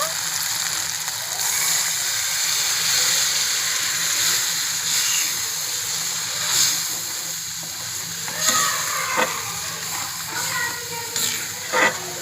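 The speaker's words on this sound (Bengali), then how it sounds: "এবার আমি সামান্য জল দিয়ে দেব" Water poured into hot oil in a pan while cooking hilsa in curd gives a steady broad sizzling hiss with brief louder spatters and bursts, fairly close and continuous throughout.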